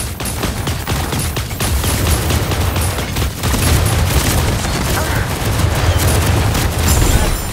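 Dense, continuous bursts of rapid gunfire and heavy booms from a battle in Super Mecha Champions Mobile, loud and sustained throughout, with muffled voices mixed in.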